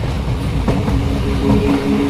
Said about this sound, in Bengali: এর আরও ৪৫ মিনিট পরে ট্রেন চলতে শুরু করলো